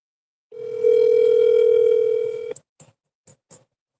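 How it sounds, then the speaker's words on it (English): A telephone dial tone hums steadily for about two seconds, then gives way to a few short, separate beeps, close and clear with no talking. "Let me call Sonny because Emil is waiting for me to call her back"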